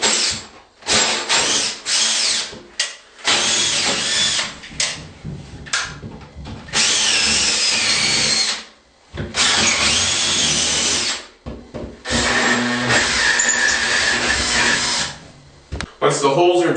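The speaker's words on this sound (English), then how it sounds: "And then to drill through the Onyx, just be careful not to go into the wood." A power drill runs in long, loud bursts with brief pauses, whining and grinding as it bores through an onyx shower panel, with speech faintly underneath.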